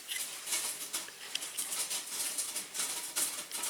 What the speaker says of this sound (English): oh my goodness, it's hailing outside now